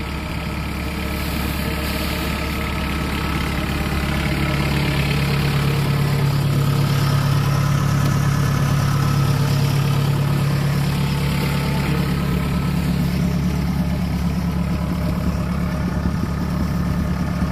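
A Kubota DC 70 Pro combine harvester engine runs steadily for the whole stretch, a loud, continuous low drone that swells slightly in the middle, with no speech over it.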